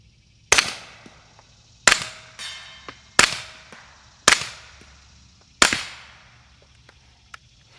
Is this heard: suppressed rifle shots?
yes